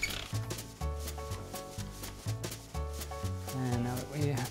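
A hand-cranked pasta machine rolls a sheet of dough, giving steady rubbing, squeaking turns in repeated strokes with short pauses between them. It is close and moderately loud, with no talking.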